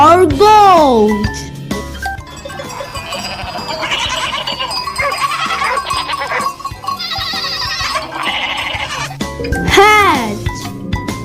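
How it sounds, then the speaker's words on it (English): Goat bleats, wavering and nasal, open and close a stretch of jingly children's music, with a voice speaking in between. "G for goat."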